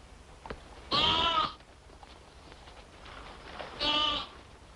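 A lamb bleats twice, close and loud, each call a wavering cry about a second long with a quiet pause between them.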